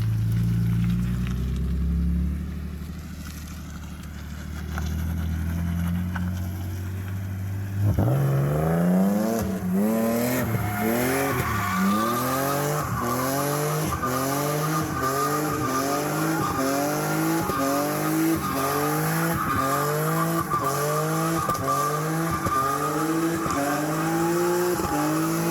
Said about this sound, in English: let's get back to the drifting.